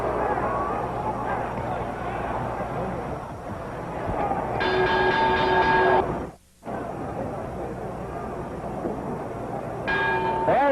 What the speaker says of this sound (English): There's the bell, Serena.